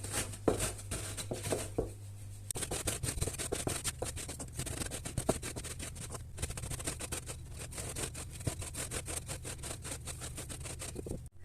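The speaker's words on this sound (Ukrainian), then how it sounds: "Беремо коврик, беремо тачалку і печиво дрібнемо." Cookies are crushed with a rolling pin on a mat, making a dense, continuous crackling and scraping at close range. Short crunches repeat rapidly, and a low hum runs underneath for the first few seconds.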